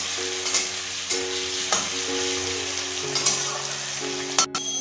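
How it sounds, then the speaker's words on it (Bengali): Diced potatoes frying lightly in oil with bay leaf, dried red chilli and five-spice seasoning for a Bengali chana dal, a steady soft sizzle with occasional stirring taps throughout. "আলুটাকে আমরা হালকা ভেজে নেব।"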